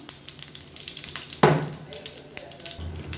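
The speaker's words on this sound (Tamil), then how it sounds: "இப்போ எண்ணெய் சூடாயிடுச்சு. கடுகு, சீரகம், 2 வெந்தயம் சேர்த்துக்கோங்க, 2 வரமிளகா சேர்த்துக்கலாம்" Mustard seeds, cumin, fenugreek and dried chillies sizzle and crackle in hot oil for a village-style paruppu kuzhambu tempering, a steady fry with a sharp burst of spattering midway and no voices.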